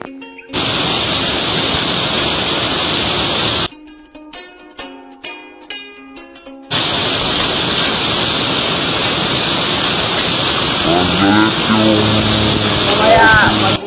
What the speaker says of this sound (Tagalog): sa pag-uwi ko ay biglang bumuhos yung malakas na ulan